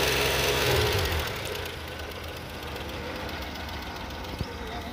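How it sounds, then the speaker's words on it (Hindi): A Suzuki FX car engine idles just after being started, a steady low rumble with a slightly rough knocking pulse, louder in the first second then settling to an even idle. "ये जो कार है सुजुकी FX, इसे स्टार्ट करने की कोशिश की जा रही है और इसे स्टार्ट किया गया है।"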